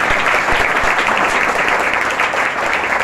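A large crowd at a Basant Panchami 2022 function applauds in a loud, dense, continuous roar of clapping that holds steady for about three seconds, close and without talk.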